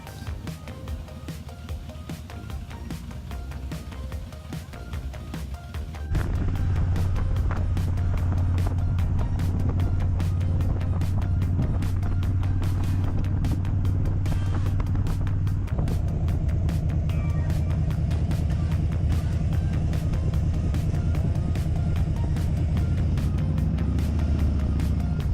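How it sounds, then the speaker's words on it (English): A motorcycle engine warming up, idling with a low steady drone that jumps louder after a few seconds and holds a constant, close rumble, no talking. "we're warming up our motorcycle here as we're getting ready to check out"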